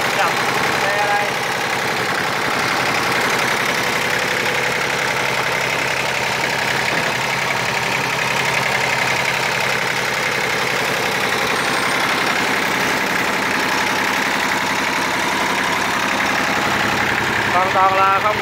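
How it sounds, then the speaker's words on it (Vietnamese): A Kubota L2601 26 hp three-cylinder tractor engine idles smoothly and steadily up close, a constant low drone while someone talks over it. "Máy chạy rất là yên."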